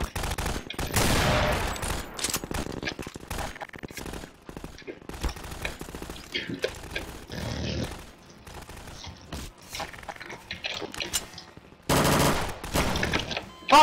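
Rapid gunfire bursts in the Garry's Mod sandbox game, loud and close, broken by short gaps, with voices talking over parts of the action.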